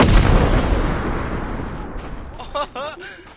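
Bomb explosions in a video game: a heavy, booming blast that rumbles and fades over about two seconds, followed by a short animated voice cry near the end.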